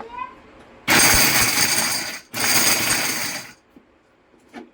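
A kitchen mixer grinder coarsely grinding peanuts for raw mango chutney, two loud close whirring bursts about a second and a half each, split by a brief pause, then quiet with small clinks.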